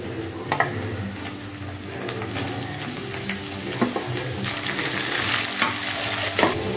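Garlic, small shallots and ripe chilies sizzle in hot oil, a continuous crackling fry broken by sharp clinks and scrapes of a spoon stirring the pan at close range.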